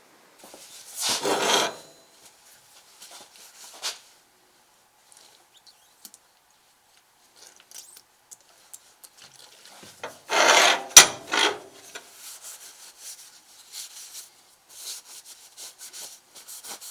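A file scrapes aluminum to bevel a joint before welding: two strong rasping bursts of back-and-forth strokes, close and crisp, with lighter scattered scrapes between them and quiet gaps.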